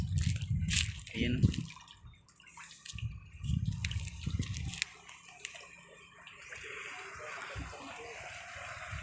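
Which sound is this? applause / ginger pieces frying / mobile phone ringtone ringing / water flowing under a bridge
water flowing under a bridge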